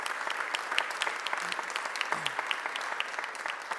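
Steady applause from an audience at a city mayor's press conference honoring a Deputy Commissioner of the Philadelphia Police Department, dense even clapping sustained throughout without pause.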